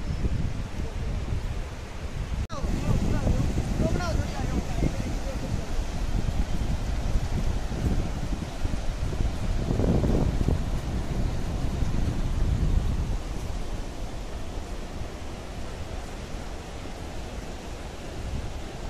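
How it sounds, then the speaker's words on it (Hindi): Steady wind blowing along the bank of the Ganges in Rishikesh, a broad continuous rushing with louder gusts in the middle, heard alone without talk. "बहुत अच्छी अच्छी हवा चल रही है यहाँ पर"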